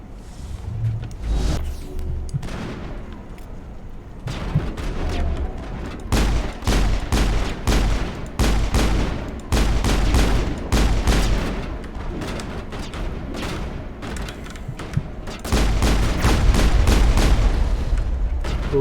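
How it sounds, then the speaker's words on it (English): Combat gunfire in the video game Mass Effect during an ambush at the end of a tunnel: steady bursts of rapid shots with deep booms underneath, continuing at fairly even loudness throughout with no talk. "these guys are not very good at shooting"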